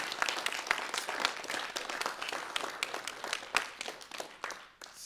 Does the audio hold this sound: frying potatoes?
no